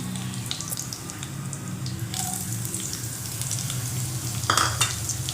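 Thinly sliced onion fries in oil for poricha kulambu, a steady close sizzle with occasional stirring scrapes and a brief clink, and a louder burst of hissing near the end.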